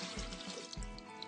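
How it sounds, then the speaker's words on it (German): Water pours or runs steadily from a tap into a vessel, about a liter for making elderflower syrup, with a continuous splashing close by. "Dafür nehme ich 1 Liter Wasser"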